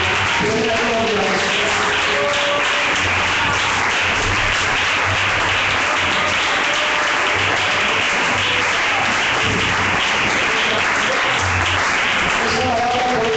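A church congregation applauding God, loud dense clapping that carries on for over ten seconds, with a voice speaking and some low tones sounding beneath it.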